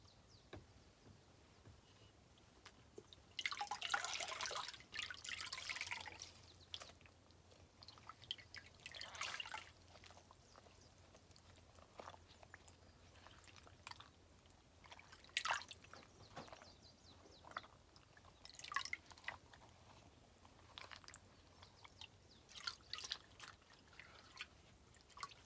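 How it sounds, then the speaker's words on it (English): Warm water dripping from a soft cloth, quiet and close, in scattered irregular drips and trickles with a louder wringing splash early on, against faint background hiss and no talking. "clean your face with warm water and a soft,"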